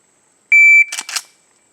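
A shooting-range shot timer gives a single short, loud electronic start beep, followed right away by a couple of brief noisy clicks.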